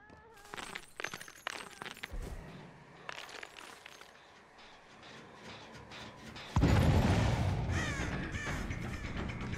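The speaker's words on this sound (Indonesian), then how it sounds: "Gua ngeliat gagak terbangnya aja sini." Crows caw and flap in the Dead by Daylight horror game, several harsh caws in bursts over game ambience, followed by a loud, dense rush of in-game sound from about two-thirds through.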